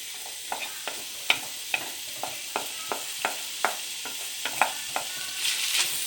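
Scrambled egg tossed with wilted vegetables in a frying pan sizzles under a steady series of sharp spatula scrapes and taps, about a dozen strokes in an even rhythm, close and clear.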